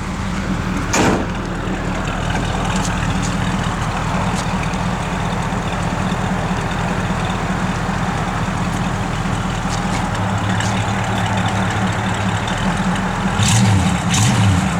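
A 1973 AMC Javelin engine runs at a steady idle, a loud, close, low rumble that holds evenly throughout, with a faint knock or click near the start and slight changes in pitch toward the end.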